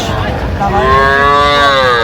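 A four-month-old Sahiwal bull calf at a Dhaka cattle market lets out one loud, close, drawn-out moo that rises and then trails off, over a background of market noise.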